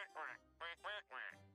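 Cartoon duck from Gravity Falls giving four quick, loud, nasal quacks in an uneven rhythm, heard clearly on their own.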